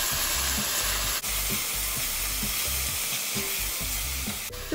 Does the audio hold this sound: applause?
no